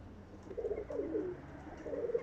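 Soft, low pigeon coos repeat in a gentle rolling rhythm, close by, over a faint background hum.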